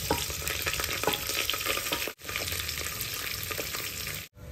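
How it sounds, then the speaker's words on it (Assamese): Whole spices fry in hot oil for vegetable khichdi, a dense, steady sizzle close to the pan with stirring scrapes, cut by two brief dropouts, no voices. "এতিয়া গুটা মছলাখিনি ভাজি লম মছলাখিনি ভাজি ললো"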